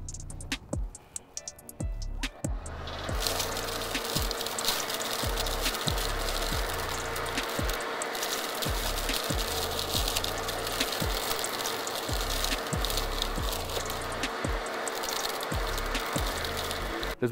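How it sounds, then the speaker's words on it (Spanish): A Makita cordless leaf blower in vacuum mode starts up and runs as a loud, continuous rushing roar, with a rapid rattling of debris being sucked through it throughout. "Y la cambiamos a modo aspiradora"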